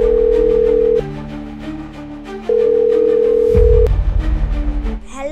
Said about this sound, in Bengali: একটু রুকসানাকে ফোন করি